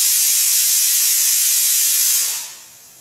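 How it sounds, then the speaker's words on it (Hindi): Pressure cooker whistle venting steam on a gas stove over medium-high flame while cooking a simple home meal; a loud, steady, bright hiss holds for over two seconds, then tapers off. "तो सीटी लग चुकी है"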